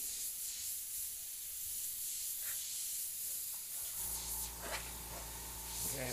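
Airbrush spraying paint onto skull artwork, a steady close hiss that continues throughout, joined partway by a low humming drone.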